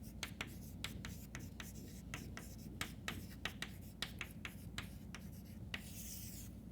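Chalk or marker strokes during a university math lecture on prime factorization, a steady series of short scratchy taps and rubs, close and fairly faint, with no talking.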